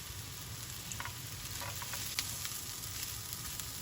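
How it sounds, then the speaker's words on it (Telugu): Chopped onions and cashews fry in oil in a pan, making a soft, continuous sizzling hiss with light crackles and faint stirring. The sound is fairly quiet and steady, with no voices. "దీంట్లోనే జీడిపప్పులు వేసుకోవాలి"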